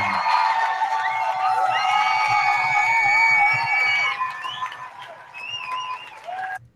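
A crowd applause and cheering sound effect: a steady wash of clapping with whistles and whoops over it, loud and sustained, then thinning and fading out at the end.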